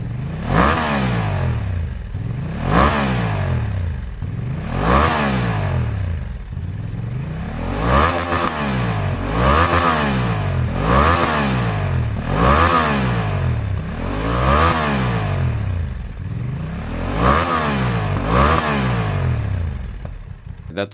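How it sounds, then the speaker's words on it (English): A Honda XL750 Transalp motorcycle fitted with an S Project Explorer 2 muffler revs repeatedly in a steady rhythm, about nine rising-and-falling blips a couple of seconds apart, loud and close. "That was the sound of the S Project Explorer 2 muffler for Honda XL750 Transalp."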